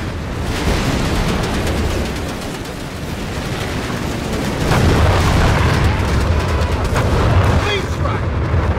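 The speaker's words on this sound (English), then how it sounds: "Airstrike incoming!" Heavy airstrike explosions rumble and boom through a Company of Heroes 3 battle scene, loud and sustained, with gunfire and shouted voices layered over the continuous blasts.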